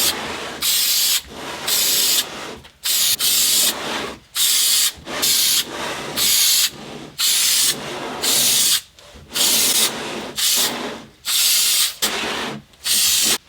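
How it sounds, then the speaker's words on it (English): Repeated bursts of aerosol oil spray hissing onto a Yamaha YZ250 air filter, about a dozen short sprays separated by brief pauses, loud and close. "we're going to put some of the fresh spray on"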